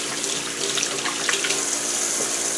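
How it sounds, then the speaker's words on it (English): Water runs steadily from a tap into a sink as hands are washed, a close, constant splashing hiss with small irregular spatters throughout. "I'm going to go ahead and just, again, wash my hands"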